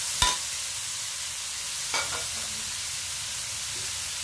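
Tomatoes go into a hot pan with a soft, steady sizzle, marked by two brief sharp clatters of a utensil against the pan and a quiet continuous hiss throughout.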